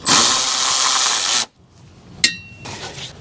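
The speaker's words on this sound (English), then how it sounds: "Now I'm going to remove this one 10mm bolt that holds the coolant overflow in place." A power tool whirs loudly for over a second, removing a 10mm bolt holding the coolant overflow on a Toyota Sienna 3.5L V6 2GR-FE, then stops, followed by a sharp metallic clink and light rustling.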